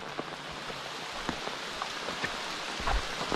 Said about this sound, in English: Looks like we got a little rain.